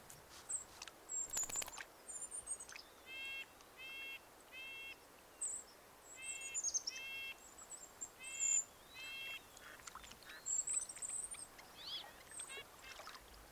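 Ducks calling near a muskrat by the water, short repeated nasal quacks and chatter scattered across a quiet outdoor background, faint and somewhat distant.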